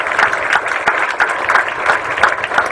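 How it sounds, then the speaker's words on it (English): A seminar audience in Singapore applauds, a dense, steady patter of clapping from a crowd that continues loudly throughout. "Can we give all these new friends a warm applause again?"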